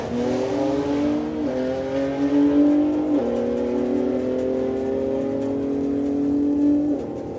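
A drag racing car tears down the strip on a pass at a Doorslammers event, its engine roaring loud and close with steady high revs broken by three quick gear-change dips before the note drops away near the end.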